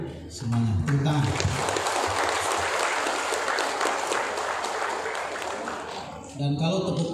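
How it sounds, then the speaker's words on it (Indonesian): Office staff applauding at a book discussion event, a steady, full round of many hands lasting several seconds, with brief talk at the start and end. "Saya minta apresiasi kepada kepala kantor untuk tepuk tangan semuanya."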